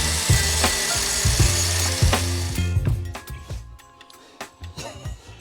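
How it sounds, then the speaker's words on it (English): An angle grinder works a metal socket during a Honda Civic EP3 K20 build, loud and close with repeated rasping bursts that cut in and out, then it winds down and tapers off into scattered clicks and handling noise. "we're gonna have to grind down the socket just to make it fit in that gap"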